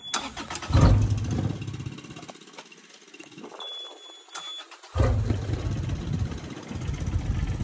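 Engine of a digger on a fence installation job cranking over and catching, then revving loud and close to full, with a quieter stalled stretch in the middle before the engine roars back.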